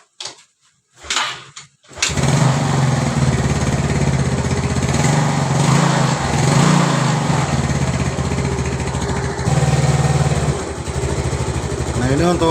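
A small Yamaha Mio carbureted motor scooter engine, after a camshaft and rocker arm repair, catches after a couple of brief sputters, then idles steadily and loud close by, with a light rev near the end.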